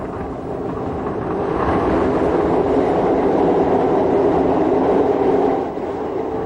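A train on the Bodensee Toggenburg Railway in 1994, running beside the line to Rorschach, gives a steady, loud rolling rumble of wheels and carriages that swells slightly and then eases, with no voices.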